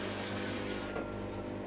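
Water is poured into everyday plain flour in equal parts to make papier-mâché paste, giving a steady, soft splashing pour that thins out near the end.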